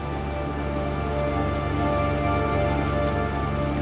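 Steady rain falls on a long road journey toward Minsk, Belarus, a dense, even hiss of drops on surfaces with no pauses, close and continuous, with no talking.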